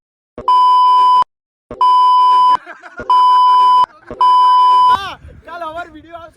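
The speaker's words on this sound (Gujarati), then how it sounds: "બીપ લગાવવું પડશે." A censor beep is dubbed over a swear word in a casual vlog. Four loud, steady electronic tones sound in quick succession, each about a second long, and voices take over at the end.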